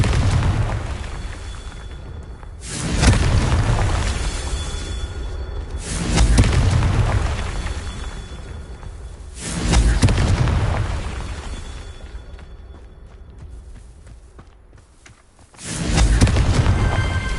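Confringo fire-spell explosions in the video game Hogwarts Legacy, five loud booming blasts about three seconds apart, each swelling then rumbling away, with no talk over them.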